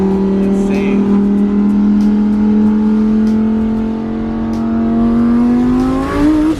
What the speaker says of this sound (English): The noises this car makes too is insane.